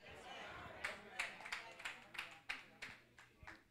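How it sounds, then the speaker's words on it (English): A congregation at a church sermon gives a few scattered claps, about ten quick, faint hand claps in an uneven rhythm, heard at a distance. "Thank you for them four claps."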